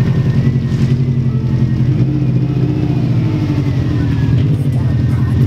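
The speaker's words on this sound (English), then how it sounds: "we're going to pull the car in" Subaru WRX running as it is driven into a garage, a steady low engine drone with rhythmic pulsing, loud and close throughout.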